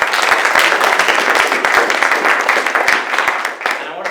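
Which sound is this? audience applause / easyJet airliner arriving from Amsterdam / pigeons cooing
audience applause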